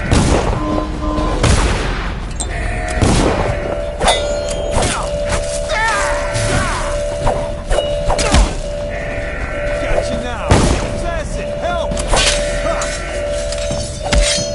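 Guards firing guns in Dishonored: The Knife of Dunwall, repeated sharp shots and booms scattered through a busy, loud mix of game sounds, music and shouting voices.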